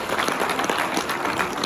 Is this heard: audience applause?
yes